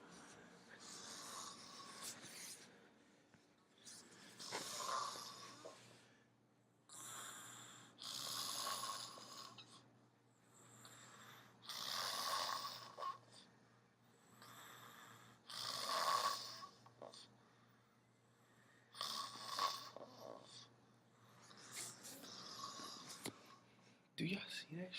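A man snores loudly while asleep, with long rasping inhales repeating every few seconds in a slow steady rhythm, close to the listener in a quiet room, with no talking over it.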